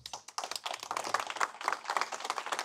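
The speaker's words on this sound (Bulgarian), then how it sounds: "Аплодисменти" Applause from an audience at a Varna 2025 sports cup award ceremony, a dense stretch of many hands clapping in a fairly close room, steady throughout with no talking over it.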